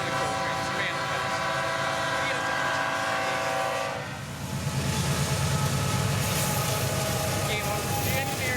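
A BNSF manifest freight train rolls past close by, a steady loud rumble of railcars with tonal screeching and clatter that shifts midway into a rougher, broadband roar of wagons going by.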